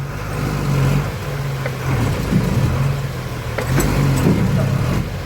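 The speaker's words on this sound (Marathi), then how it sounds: "हा, निघाली गाडी निघाली." A vehicle engine cranks and catches, then revs in surges that rise and fall several times, loud and close, with a person's voice briefly audible in the background.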